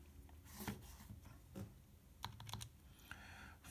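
Keys on a calculator keypad are pressed in quick, light taps with uneven spacing, faint and close, with no talking.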